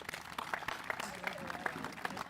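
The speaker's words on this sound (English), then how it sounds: "let's give them a round of applause" Applause from an audience at a community celebration, light clapping with scattered distinct hand claps, moderately faint and continuous over a murmur of voices.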